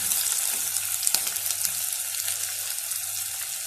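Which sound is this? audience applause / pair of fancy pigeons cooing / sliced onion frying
sliced onion frying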